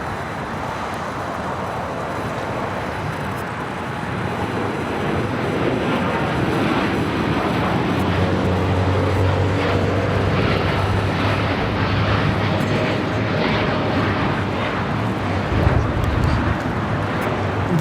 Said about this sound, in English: This 787-8 Dreamliner is taking off to Tokyo Narita.